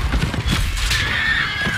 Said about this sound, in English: He tripped the fucking horse.